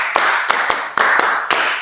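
A class of students performs the 'tepuk pagi' clapping rhythm game, striking short, sharp, sparse claps in a patterned sequence close by, with no voices over them.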